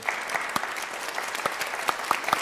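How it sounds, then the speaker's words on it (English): After an author talk, an audience gives author Peng Shepherd a warm round of applause, steady, moderately distant clapping with scattered sharper claps standing out. "Let's give her a warm round of applause"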